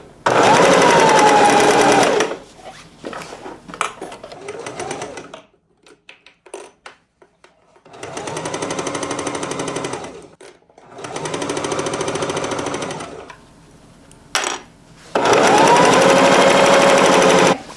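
A sewing machine stitches satiny fabric lining for a sewing machine cover in loud, fast rattling runs of a couple of seconds each, separated by quiet pauses and softer handling of the fabric.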